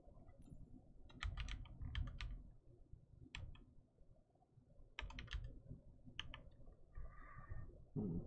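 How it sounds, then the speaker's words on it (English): Bursts of computer keyboard typing, clustered clicks and short runs of keystrokes separated by pauses, set over a steady low hum. "Maybe if I type this in..."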